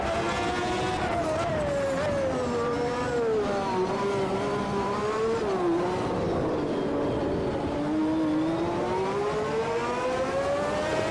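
A race car engine in the Automobilista 2 sim racing game, played in VR at high speed, whines loudly and continuously, its pitch rising and falling through gear changes and corners.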